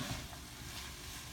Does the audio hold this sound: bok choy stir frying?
yes